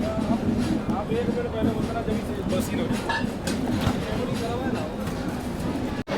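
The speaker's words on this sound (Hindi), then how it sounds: "ये जो ट्रेन देख रहे हो ये है लेजेंडरी तेलंगाना एक्सप्रेस" The Telangana Express rumbles past near Agra with a continuous clatter of wheels, heard steadily throughout while someone talks over it, ending in a sharp click.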